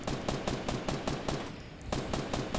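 Rapid bursts of automatic gunfire in the Fortnite Battle Royale video game, sharp evenly spaced shots repeating steadily and loud throughout, with no talking.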